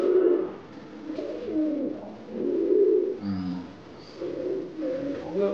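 Several pigeons of fancy breeds, including black fantail, white lakkha, house and jacobin pigeons, cooing in repeated low throaty rolls, close and fairly loud, with overlapping calls and a brief sharper sound near the middle.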